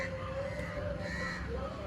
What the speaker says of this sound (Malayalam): അതെ, കാക്കകളൊക്കെ കൂട്ടിൽ പോകാൻ വേണ്ടി ഇങ്ങനെ പറക്കുകയാണ്.